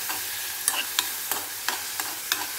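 Tomatoes sauté with butter and masala in a pan, a soft continuous sizzle broken by a series of sharp spatula scrapes and clicks in a loose rhythm.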